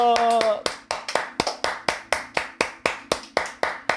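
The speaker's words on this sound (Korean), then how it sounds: "우리 하나님께 감사의 박수 드리겠습니다." A church congregation at a Sunday worship service claps in thanks, a steady rhythmic beat of about a dozen loud, even claps in unison, following a short sung or spoken tone at the start.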